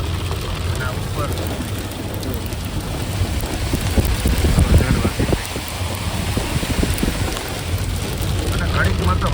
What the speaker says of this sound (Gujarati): વરસાદ બહુ ચાલુ છે, દેખાતું નથી એટલો વરસાદ ચાલુ છે. તો કરા પડે છે, વરસાદ આવે છે